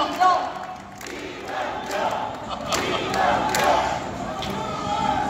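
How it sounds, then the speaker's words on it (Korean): A crowd at an election campaign rally in Daejeon cheers and shouts with applause, a loud continuous roar that swells and holds for several seconds, with voices rising through it. "힘찬 박수와 함성으로 모시겠습니다"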